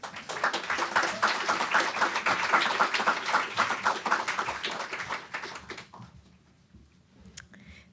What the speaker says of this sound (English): Let's have a round of applause for Dion.